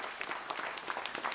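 Audience applause at a Manas epic knowledge competition, steady crowd clapping with soft uneven bursts, moderately distant and without talk.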